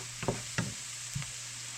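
Butter heating in a pan over medium heat, a soft steady sizzle under a few light scraping stirs of a utensil, close and quiet, no talking.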